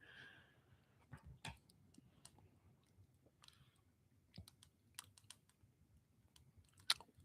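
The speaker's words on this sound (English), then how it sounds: "You are typing aggressively." Keys struck hard on a computer keyboard in sparse, uneven bursts of sharp clicks, fairly faint against a quiet room, with no talking during it.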